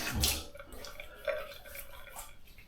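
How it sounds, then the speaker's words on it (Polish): Cold tap water runs and splashes in a sink while a Rex Konsul Slant adjustable safety razor is rinsed, with an irregular close trickle and a few louder splashes. "Słuchajcie, zimna woda."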